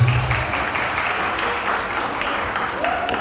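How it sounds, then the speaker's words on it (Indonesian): Applause from the audience at an Islamic boarding school's girls' scientific debate competition, a dense burst of clapping that stays steady and fairly loud for the whole stretch. "Luar biasa, tepuk tangan lagi."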